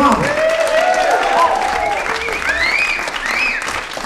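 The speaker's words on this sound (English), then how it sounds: "Big round of applause." Audience applause at a live concert celebrating a 25-year anniversary, with musicians on stage, steady dense clapping throughout with a few cheering whistles rising above it.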